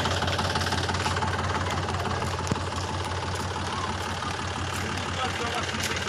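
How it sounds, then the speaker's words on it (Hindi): A truck and a tractor stuck in deep mud on a rural road run their engines in a steady, loud, low rumbling drone that carries through the whole stretch. "यहाँ पर एक हैबा और ट्रैक्टर फंस गया है"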